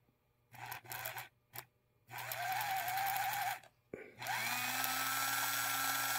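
A 1976 TYCO Bicentennial model train motor whirs close by in short bursts, then runs steadily with a thin, whining hum that rises in pitch.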